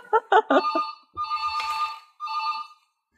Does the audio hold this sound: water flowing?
no